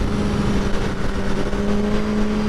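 A 2023 BMW M1000R motorcycle engine drones loud and steady while the bike is ridden, a sustained close engine note holding for the whole stretch with no talk over it.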